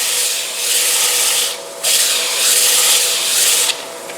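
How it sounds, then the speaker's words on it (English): Wooden bowl hand sanded with 100 grit sandpaper, loud close rasping strokes in long sustained passes with a brief pause between them, and no voices. "Now I'm going to hand sand. Again, same grits, 100 grit."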